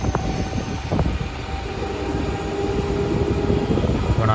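Vijayawada to Guntur passenger train number 67769 rumbles along steadily with a low rolling drone and occasional clanks, heard from inside at a constant, fairly loud level without talk.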